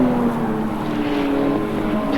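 Production cars racing at Amaroo Park in 1989, engines droning steadily and loud on the run down toward Sutton's Corner, one sustained pass with no talk.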